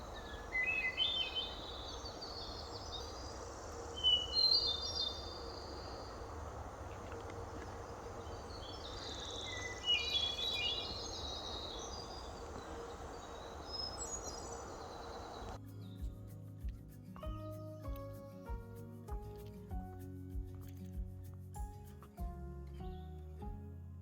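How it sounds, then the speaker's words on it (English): A hermit thrush sings fluting phrases at a moderate distance in a quiet outdoor setting for about fifteen seconds. Music then takes over and the birdsong drops out. "Hearing a beautiful hermit thrush."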